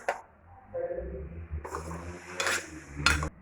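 A spoon scrapes and clatters against a pot while chicken biryani is stirred, with metallic knocks and lid clanks in uneven bursts close up, and a faint voice talking underneath.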